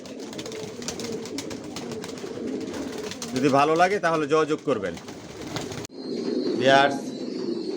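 Cooing from a loft of racer pigeons runs under someone speaking near the microphone, the soft rolling calls continuing between and beneath his sentences.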